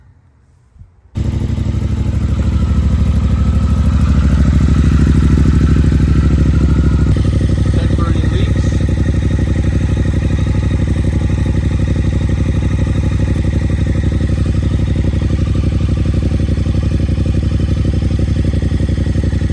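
A Triumph Speed Twin motorcycle engine cranks and catches after a brief quiet moment, then runs steadily with a loud, throaty idle and a faint rev partway through.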